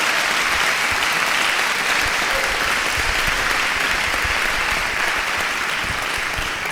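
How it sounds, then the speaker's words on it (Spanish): A conference crowd at a Peruvian party event breaks into loud, sustained applause for an arriving speaker, a dense, even roar of many hands clapping throughout with no talk over it. "Vamos a recibir con fuertes palmas al compañero Juan Carlos Tomás Condori. ¡Fuertes palmas!"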